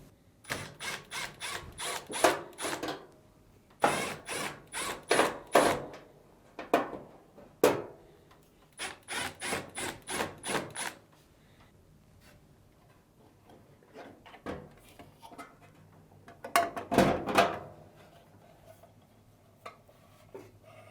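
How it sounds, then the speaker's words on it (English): Screws are backed out of the plastic control board cover on a Samsung dryer, each turn making quick, close ratcheting clicks in several bursts separated by short pauses, with no voices. "To access, remove the screws and rotate the cover."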